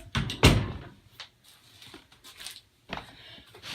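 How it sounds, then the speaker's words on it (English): A close, sharp thud of a door shutting, followed by faint rattles and a softer knock in a quiet room. "Maybe I'm going to shut my door."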